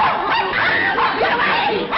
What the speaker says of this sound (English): That vicious dog is going to attack me.